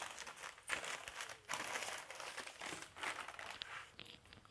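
A cotton cloth bag being folded, with continuous close soft crinkling and rustling in uneven bursts, faint and without talk.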